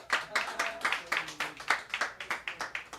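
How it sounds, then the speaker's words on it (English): Audience applause at an evening book talk for a poetry book, with a small crowd giving brisk, fairly quiet, steady clapping. "Round of applause for coming out tonight."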